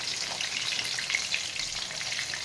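Fish sizzles and crackles in hot oil in a pan, a continuous close hiss with small pops throughout, no voices.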